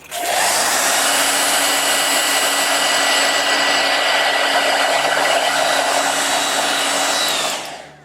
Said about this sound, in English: Now blow dryer.